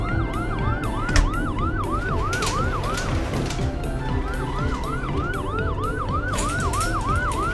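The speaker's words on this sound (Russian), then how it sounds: "Теперь едет скорая помощь." A cartoon ambulance siren wails in a steady repeating up-and-down pattern, loud and close, over a busy background of music and effects with no talking.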